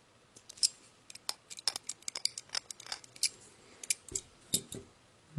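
Scissors snip a small stray piece of plastic off a toy figure: a string of sharp, close, quiet clicks and cuts in irregular rhythm, with no talking.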